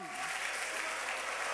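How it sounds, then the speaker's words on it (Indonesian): Church congregation applauding in a steady, dense burst of clapping that fills the space throughout. "Berikan tepuk tangan buat Allah kita."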